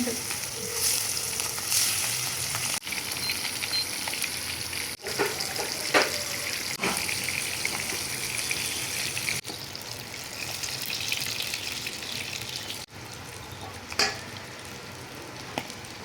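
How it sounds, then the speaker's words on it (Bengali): Katla fish, rubbed with salt and turmeric, fries in hot oil with a continuous crackling sizzle, broken by occasional brief clicks and louder spatters. "আমার তেল গরম হয়ে গেছে গিয়া আমি এখন মাছটা দিয়া দিব"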